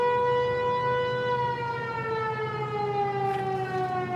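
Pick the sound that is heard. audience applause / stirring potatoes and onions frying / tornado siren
tornado siren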